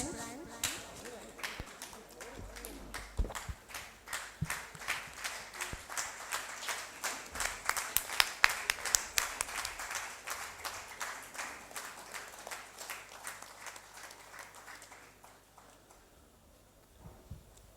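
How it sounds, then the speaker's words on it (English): Audience applause for prize winners at a 2015 closing ceremony and prize distribution, a steady run of claps rising to a loud peak midway, then thinning and fading out near the end. "We'll clap for them once more."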